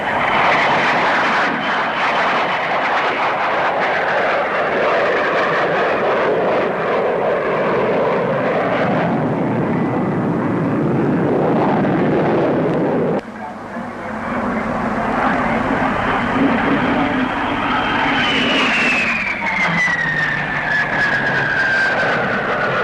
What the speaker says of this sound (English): Here's the DH-112, the Venom,